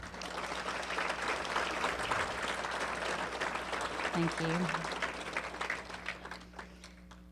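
Audience at an annual dinner breaks into sustained, dense applause filling the room for several seconds, with a voice speaking briefly over it.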